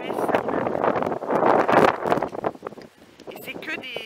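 Gusty wind buffets the microphone in loud rumbling bursts at an outdoor apartment pool in Maui, Hawaii, while a person talks over it, the blasts easing slightly toward the end.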